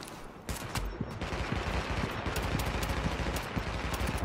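Bursts of automatic gunfire in The Division, dense rattling volleys of close shots after a brief quieter start, continuing loudly with overlapping reports and no talking.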